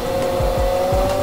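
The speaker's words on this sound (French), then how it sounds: "J'ai tourné la clé, un petit coup de gaz et je suis parti." An Electric Motion Etrek electric motorcycle pulls away with a steady whine of its electric motor, close and loud, with a few low thumps underneath and no talk.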